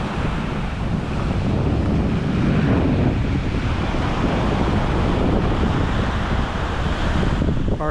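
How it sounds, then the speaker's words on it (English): Ocean surf along a long curved beach at La Manzanilla, Mexico, a continuous loud rushing wash of waves heavily mixed with wind buffeting the microphone, with no talk. "Big expanse of ocean,"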